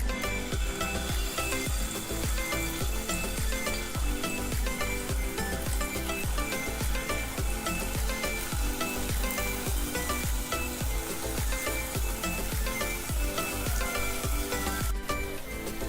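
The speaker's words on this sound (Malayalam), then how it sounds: "ഇത് ഫ്രൈ ചെയ്തെടുക്കാൻ പാകത്തിനുള്ള നെയ്യ് ഒഴിച്ചു കൊടുക്കണം." Paneer frying in ghee gives a close, continuous sizzle with dense popping crackles and faint stirring taps, steady and fairly quiet with no voices.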